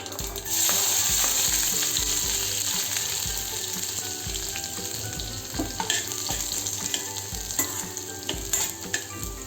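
Garlic dropped into hot oil with cumin and mustard seeds for dal tadka, bursting into a loud, dense, steady sizzle close by, with faint spoon scrapes and crackles through it.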